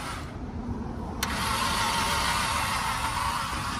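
A 2009 Honda Accord V6 with automatic transmission cranks and fires, a brief click followed by a steady, loud engine roar that settles into a continuous run close to the microphone.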